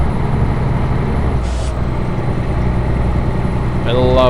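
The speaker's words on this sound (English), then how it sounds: "I love that turbo sound," A heavy truck in the American Truck Simulator driving game drones steadily under a faint turbo whistle, with a brief air hiss midway and a rising whine as the engine pulls at the end.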